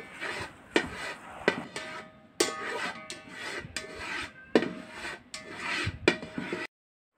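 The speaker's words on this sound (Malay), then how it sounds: "oleskan minyak zaitun di dasar kuali dengan senduk ataupun sudip" A ladle or spatula spreads olive oil across the bottom of a wok, making a series of dry rasping scrapes in short irregular strokes, close and fairly quiet, with no talk.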